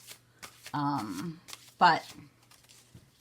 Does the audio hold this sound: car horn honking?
no